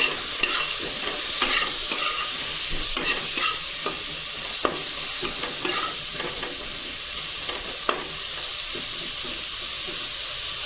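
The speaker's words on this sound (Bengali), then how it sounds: "আবার একটু নেড়ে কেড়ে নেব" Pabda fish curry with eggplant, salt and turmeric sizzles in a pan while being stirred: a constant close frying hiss broken by scattered scrapes and taps of the utensil, with no voices.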